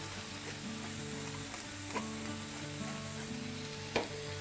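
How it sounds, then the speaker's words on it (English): Prawns stir-fry in a hot pan with lemon juice and pepper, a loud continuous sizzle broken by a few sharp clinks of a utensil against the pan, with no talking. "And we're going to stir fry this."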